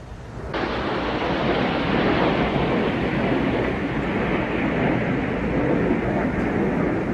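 Two Rafale Marine fighter jets pass over a naval review off Provence, a sudden loud broadband roar that swells in and holds steady without voices.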